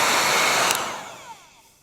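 Heat gun warming vinyl wrap on a van blows with a loud, close hiss that winds down and fades away within about a second.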